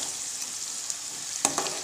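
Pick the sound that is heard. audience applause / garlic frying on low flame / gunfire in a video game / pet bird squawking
garlic frying on low flame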